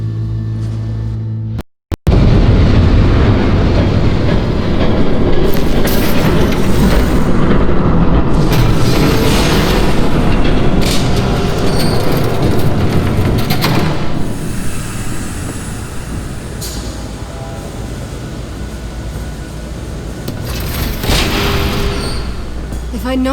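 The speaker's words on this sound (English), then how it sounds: "There's a train coming." A train rushes past in the Batman Vengeance video game, a loud, continuous rumbling roar lasting many seconds after a brief cut, with speech mixed in.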